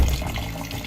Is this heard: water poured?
yes